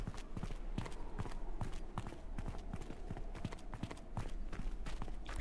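Rapid clip-clop of horse hooves at a trot in Mount & Blade II: Bannerlord, rhythmic and fairly close, with no talking.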